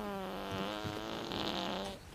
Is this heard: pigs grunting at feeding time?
no